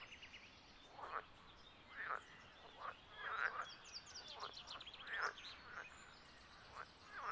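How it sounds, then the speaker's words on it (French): Frogs croak at the water's edge in a steady rhythm, with roughly one deep call every second or so. The calls are moderately faint, and lighter chirps sound in the background. "vous avez la surprise d'entendre le chant des grenouilles"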